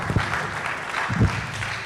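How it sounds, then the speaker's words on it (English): Applause for Senator Shehu Sani at a national electoral reforms summit: a short, close burst of clapping from the audience, fairly loud and dense, with a brief louder swell near the end. "Another round of applause for him."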